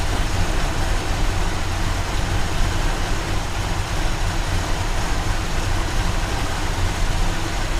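A steady, low El Camino engine idle rumbles continuously on flat ground with an even, unchanging tone, close by and fairly loud, with no voices.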